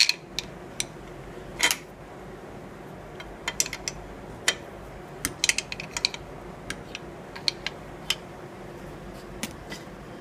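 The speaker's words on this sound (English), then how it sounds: "So we'll go ahead and loosen up our pivot bolts." Wrench loosening the pivot bolts on a table saw, heard as sparse sharp metallic clicks and ticks at irregular intervals over low shop background, close but fairly quiet, with no talking.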